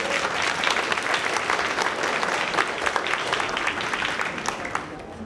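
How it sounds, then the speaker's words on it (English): Audience applause at an elementary school third-grade instrumental concert: steady, dense clapping from a crowd filling the room, holding at an even level for about five seconds before easing slightly at the end. "So one more round of applause for him as well"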